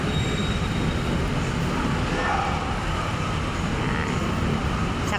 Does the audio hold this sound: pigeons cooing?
no